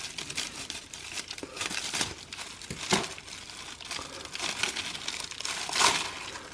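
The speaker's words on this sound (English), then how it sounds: "I'm not having good luck cutting this plastic" Crinkling plastic wrap is cut and pulled off a frozen Mr. P's Crispy Crust combination pizza with sausage and pepperoni: quiet, close, irregular crackles and rustles with a few sharper crinkles.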